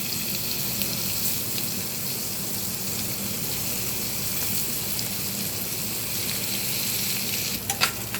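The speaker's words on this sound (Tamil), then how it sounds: "இப்போ முதல்ல பன்னீர் போட்டு ஃப்ரை பண்ணிக்கலாம்" Steady, dense sizzle of paneer frying in hot oil, continuous and fairly loud throughout, with a few sharper crackles near the end.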